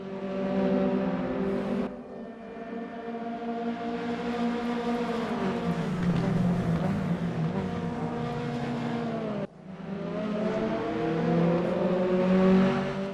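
A race car in the RaceRoom racing game accelerates hard out of a corner, its engine note climbing steadily and loud throughout, with a brief dip near the end before it rises again.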